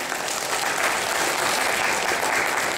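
Dense, steady applause from a conference audience right after a speech at a climate association event, filling the whole clip at close range with no break.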